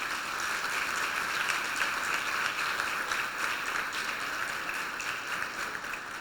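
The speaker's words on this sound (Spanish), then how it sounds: "Con un fuerte aplauso." A church congregation claps in a steady, even wash of applause that sounds somewhat distant, greeting online viewers during a service, with no break in the sound.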